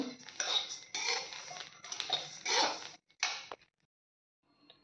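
Sizzling, scraping clatter of rice grains stirred while frying in a hot wok, in several bursts for about three seconds, then near silence with a faint clink at the end.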